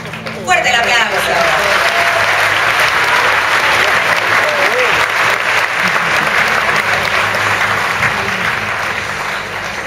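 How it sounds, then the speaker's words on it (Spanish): Loud, sustained applause from a large audience at an award ceremony at the Mar del Plata Film Festival, steady and dense for the whole stretch with a few whoops and voices mixed in. "Fuerte el aplauso."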